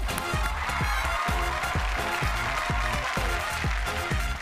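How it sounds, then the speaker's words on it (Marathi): Applause for two dancers on a televised dance competition stage, a dense continuous wash of clapping over a steady thumping rhythmic beat that runs the whole time. "वा दोघांसाठी जोरदार टाळ्या."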